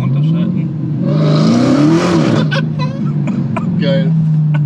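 A 2022 Dodge Challenger SRT Hellcat Redeye with 808 PS on a seaside corniche roars loudly from inside the cabin, its engine note rising as it accelerates, then settling into a steady drone while occupants talk over it.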